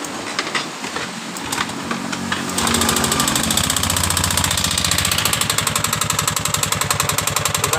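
A 2019 Honda Beat Sporty motorcycle engine with a rough, sewing-machine-like mechanical noise starts up after faint clicks. It settles into a loud, steady rattling idle with a fast, even ticking rhythm close by.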